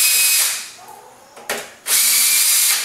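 A power drill backs screws out of a door in loud whirring bursts, first at the start and again near the end, with a quick short spin in between.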